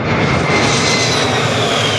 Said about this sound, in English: another plane down, this time an aging A-10 tank buster, like this one, a single crew plane